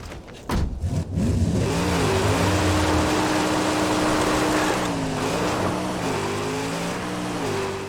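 A powerful car in the Mad Max video game revs loudly and up close. The engine climbs, holds a buzzing tone, then dips and rises again in wavering surges.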